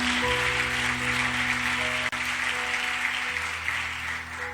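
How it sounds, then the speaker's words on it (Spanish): A church congregation claps together in praise during a Spanish-language sermon, producing a continuous, even roar of applause over sustained keyboard tones, with one brief dip midway. "Vamos, dale palmas de alabanza al Espíritu Santo por la revelación, la palabra"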